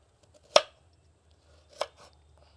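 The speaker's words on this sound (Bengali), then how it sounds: "পেঁয়াজটাকে একটু কুচি কুচি করে নেব।" Two sharp, isolated knife strikes on a cutting board while an onion is finely chopped for a Bengali rui fish curry with green tomatoes, separated by a pause, close and fairly quiet with no talk.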